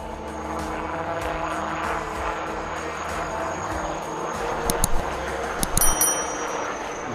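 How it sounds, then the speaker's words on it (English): A HAL Light Utility Helicopter hovers and flies backward at the Aero India 2025 air show in Bangalore, its steady rotor and engine drone carrying across the field with crowd ambience. "The LUH proceeding rearwards with a unique tail rotor design, allowing it to hover"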